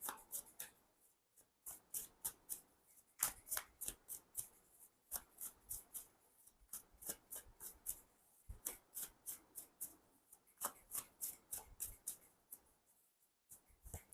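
A deck of tarot cards is shuffled by hand in quick bursts of riffling and slapping, close and crisp, with brief pauses between rounds and no talking.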